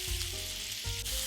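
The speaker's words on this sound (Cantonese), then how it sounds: "煎到表面有啲啲微微焦香" Blanched broccoli sprouts with a little salt pan-fry over medium heat in a wok used for chicken breast, giving a continuous soft sizzle with a faint tonal hum, quiet and steady with no voices.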